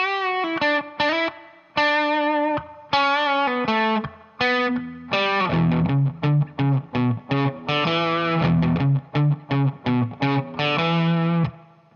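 A distorted electric guitar plays the single-note riff from a song, with bends and pull-offs. Short, bright phrases are broken by brief gaps, and the rhythm grows quicker and more clipped toward the end, with no voice.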